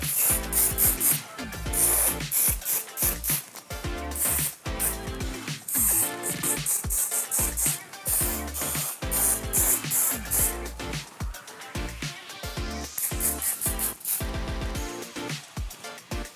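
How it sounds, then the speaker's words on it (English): An aerosol can of Flawless Finish Strong Hold hairspray is sprayed onto curly hair styled in an updo, giving rapid repeated hissing bursts at close range with short gaps between them. "hold it a distance from the hair before spraying"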